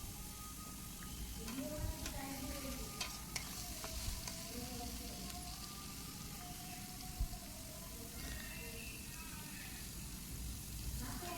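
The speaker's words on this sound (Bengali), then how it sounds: "ভালো করে নাড়াচাড়া করে নেব। এবারে দিয়ে দেবো 1 চামচ আদা রসুন বাটা," Chicken fries in a pan with ginger garlic paste and turmeric, a steady close sizzle with scraping stir strokes throughout, under a voice talking.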